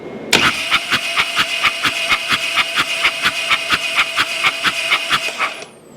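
A 2006 Harley Dyna motorcycle engine cranks over on the starter, a sharp start followed by an even, rapid chugging rhythm of about four beats a second that runs for several seconds, then cuts off at the end.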